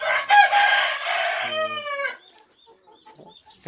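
Chickens in a coop's quarantine pen for newly bought birds let out a loud, close cluck and a drawn-out crow, then fall to scattered faint peeps and clucks.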